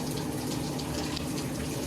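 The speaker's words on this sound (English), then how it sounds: "I already have the shower running for me, letting it get warm" A shower runs steadily in a bathroom as it warms up, a continuous close rush of falling water with no pauses and no voices.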